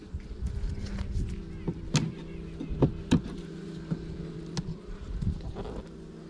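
A steady drone of buzzing bees fills the background as bees are shaken into hive boxes while a horizontal hive is split, with a few knocks and clunks popping up over the hum.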